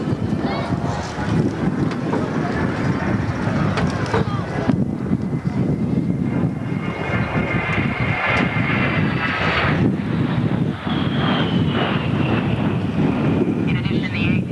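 An A-10 jet at an airshow turning and changing direction in defensive maneuvers, a continuous roaring engine rush with shifting whine and wind noise, steady and fairly loud, with a commentator's voice speaking over it.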